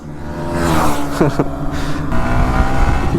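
Cars in a street drag race roar and rev loudly, engines surging and passing close by with dense, continuous mechanical noise and a couple of sharp rising whines, while people talk nearby.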